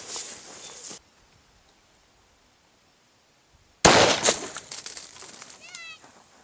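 A single Federal M193 5.56x45 NATO 55-grain rifle round is fired outdoors at a ballistic target: one loud, sharp crack after a quiet pause, trailing off into echo, with birds chirping nearby afterward.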